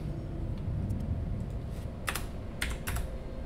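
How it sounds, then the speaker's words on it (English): Rapid clicking on a computer keyboard, close and steady, with a few louder key strikes standing out near the end over a low background hum. "I gotta type this."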